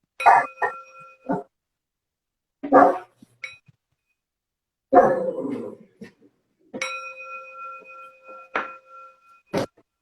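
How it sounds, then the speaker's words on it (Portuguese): A small mindfulness bell rings twice to open a meditation session, its clear tone hanging and fading, with sharp dog barks breaking in between and around the rings. "Eu vou tocar o sininho aqui para dar início."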